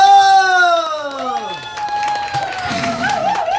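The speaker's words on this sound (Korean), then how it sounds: "다시 한번 우리 스브란스키 우리 부모님께 자 박수 함성" An audience at a Korean pumba folk troupe's stage show claps and cheers, a rising wash of crowd applause and shouting that swells in under a fading sustained tone and continues loudly to the end.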